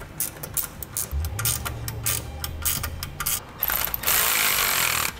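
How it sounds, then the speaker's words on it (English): A ratchet tightens nylon lock nuts while installing lift spacers for Firestone Ride-Rite air helper springs, making quick runs of close metallic clicks, followed by a steadier hissing rasp near the end. "now we'll work on tightening down our nuts"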